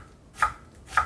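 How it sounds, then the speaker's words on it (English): A knife chops an onion on a cutting board in two distinct, crisp knocks about half a second apart. The chops are close and quiet, with no voices. "I'm going to run the knife through just a few times"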